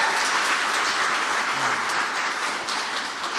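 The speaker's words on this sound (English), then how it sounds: "Let's give them a round of applause." An audience at a STEM convening at the White House applauds steadily, a dense, even wash of clapping with no talking over it.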